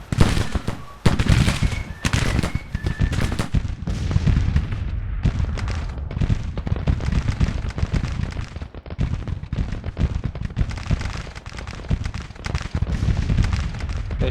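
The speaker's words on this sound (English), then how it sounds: "seems to be a Gatling gun" Rapid bursts of gunfire from a Gatling gun in a Civil War battle, loud dense volleys of cracks and booms continuing throughout with brief gaps.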